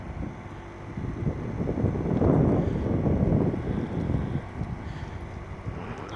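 Wind gusting over a damaged RV roof, the torn fiberglass lifting; a steady broadband rush swells to a louder peak mid-way then eases, with no talking.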